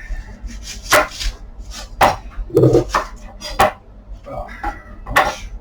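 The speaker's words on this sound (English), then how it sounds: "by the time I chop the onion" Onion being chopped on a board, several sharp, evenly spaced knife knocks about once a second, close and clear, with brief speech between the cuts.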